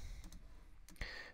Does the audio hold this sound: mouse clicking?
yes